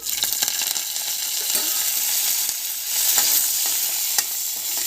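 Steady crackling sizzle of tempering spices, garlic cloves and curry leaves frying in hot oil, close and continuous, with a few light stirring clicks throughout.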